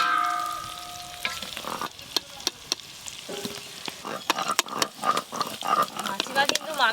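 Potatoes frying in oil for a village-style chicken curry cooked on a clay stove, with steady sizzling and frequent sharp stirring knocks and scrapes from the pan; a voice speaks over the cooking at the start.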